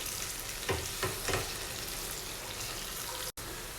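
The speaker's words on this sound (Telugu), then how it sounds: "నెక్స్ట్ ఈ తాలింపు అంతా కూడా గోల్డ్ కలర్ వచ్చేంత వరకు ఫ్రై చేసుకోవాలండి." Onion, curry leaves and garlic tempering sizzle steadily in hot oil in a pan, with a few louder stirring scrapes early on and a brief dropout near the end.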